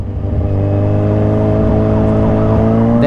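A Kawasaki Z1000 motorcycle fitted with a quick shifter revs up in first gear, a loud, steady, rising engine whine held close and continuous.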